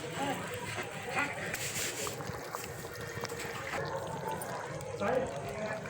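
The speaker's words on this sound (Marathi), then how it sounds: "छान अशी उकळी धरली मस्त खळखळ उकळायला लागले" A pot of mutton curry bubbles at a steady rolling boil, a soft continuous gurgling wash, with faint talking in the background.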